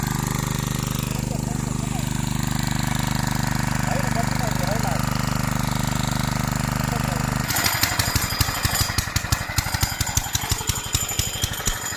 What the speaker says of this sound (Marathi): आता थोड्याच वेळात दोघवडी इंजिना चालू करण्यात येते